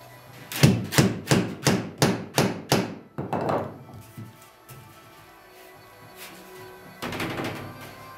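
Tacks hammered into a wooden canvas stretcher frame: a quick, evenly spaced run of about seven sharp, close knocks, one more blow after a short pause, then quiet room tone.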